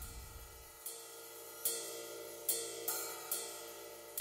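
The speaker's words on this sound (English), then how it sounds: "So I replaced them with the Heaviosity DM307 cymbals. And they sound very nice." Heaviosity DM307 cymbals played as a sampled kit for video game music, lightly compressed and EQ'd: a series of five crisp crashes at a steady pace, each bright wash ringing out and decaying before the next, with no talk.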